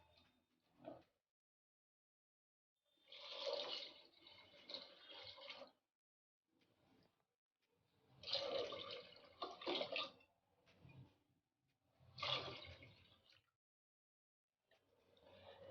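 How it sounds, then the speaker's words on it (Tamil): Water splashes and pours into a cooking pot of rice in several short bursts with quiet gaps between, close by and fairly soft. "இப்போ நம்ம 2 கிளாஸ் அரிசிக்கு 4 கிளாஸ் போல் தண்ணி ஆட் பண்ணிடலாம்."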